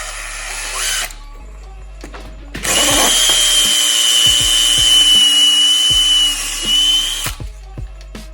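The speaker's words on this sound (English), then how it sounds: "I drill all the way through the block into the hull" A power drill whines loudly and steadily for several seconds, drilling through a mounting block into an aluminum boat hull, close by, after a brief earlier burst and some clunking handling sounds.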